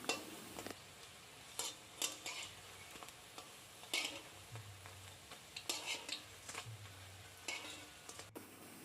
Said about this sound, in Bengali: আমি এখন নেক্সট যেগুলো বাকি ছিল সেগুলো ভেজে নিচ্ছি।